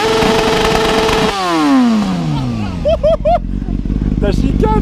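A motorcycle engine revs at full throttle for a sound meter test, holding a loud roar before dropping away in a falling whine, followed by crowd cheers and shouting voices.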